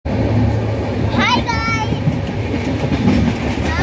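Punjab Mail express train running with a steady loud rumble and rolling rail noise throughout, a brief squeal or whistle-like tone rising midway, with people talking nearby over the din.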